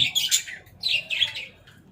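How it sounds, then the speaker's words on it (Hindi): Budgerigars in a home aviary colony chirp and chatter in two busy, bright bursts, close and fairly loud, with no talking over them. "ये जी मेरी कॉलोनी है बजरीस की।"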